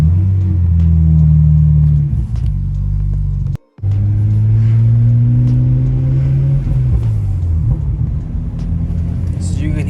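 A BMW N54 engine with catless downpipes idles and revs in a low, steady rumble with rising and falling engine tones, briefly cutting out once before resuming, with occasional small exhaust pops.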